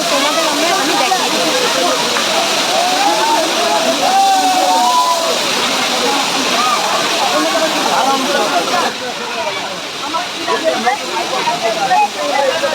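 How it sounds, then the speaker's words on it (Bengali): A waterfall on the Ayodhya hills circuit in Purulia roars steadily and loudly throughout, a dense continuous rush of falling water with a few faint bird-like chirps and brief hushes near the end. "ঝর্ণা জলের আওয়াজে তোমরা কিছু শুনতে পারবে না"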